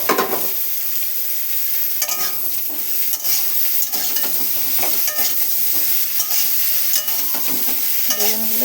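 Chopped eggplant frying with partly fried potatoes in a pan on raised gas heat, a constant close sizzle with repeated scraping stirs and spatula taps at a loose, uneven rhythm.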